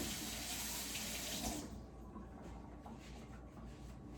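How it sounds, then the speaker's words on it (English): Tap water runs loudly into a kitchen sink while a spatula is rinsed after mixing flour. The flow cuts off partway through, leaving quieter dripping and splashing. "to rinse our spatula so we don't get flour into our milk mixture"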